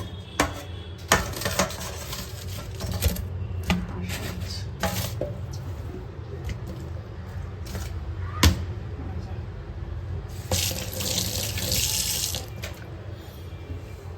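Tap water runs into a kitchen sink while parshe fish are washed, a steady hiss of flowing water broken by clatters and splashes, with a voice speaking intermittently over it.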